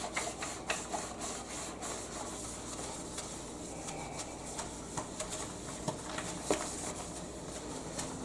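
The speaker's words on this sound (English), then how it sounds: "let me go and do a little scrubbing on the bottom of the sink to get rid of some of that dirt" Steady close rubbing and scrubbing on the bottom of a 40-year-old kitchen sink, a continuous abrasive scratchy texture with faint irregular strokes, no talking.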